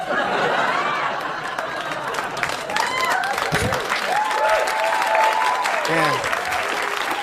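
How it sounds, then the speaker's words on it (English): A comedy club audience applauds in a steady, dense wave, with chatter and scattered laughter and whoops mixed in throughout. "Yeah, clap now"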